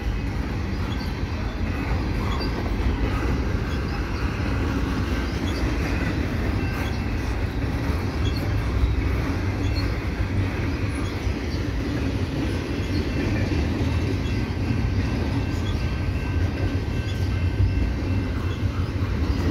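A mixed freight train hauled by CSX and CN locomotives rolls past at a crossing on Ile Perrot, with a continuous loud rumble of wheels and cars and light rhythmic clacking that holds steady throughout.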